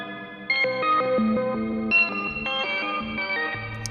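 A Chase Bliss Blooper looper pedal plays back a looped, echoing melodic phrase while its modulation ramps faster, so the stepping notes warble and shift in pitch at moderate volume with no talking.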